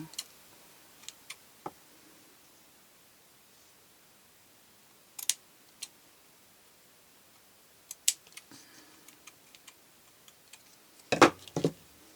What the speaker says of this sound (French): Non, mes ciseaux sont nazes.